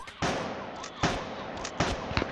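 Loud gunshots ring out in an army survival video game, three sharp booming reports spaced about a second apart, each trailing into a brief echoing decay, with small clicks between.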